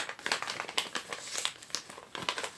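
Paper crinkling and rustling in quick bursts as it is folded into a hat, close and faint, with no voices.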